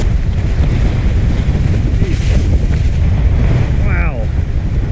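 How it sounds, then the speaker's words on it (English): Strong gusting wind on a Utah ski slope as a storm front approaches, a steady low buffeting roar pressed close against the microphone for the whole stretch, with a brief tonal voice-like sound near the end. "The wind's blowing like in every direction."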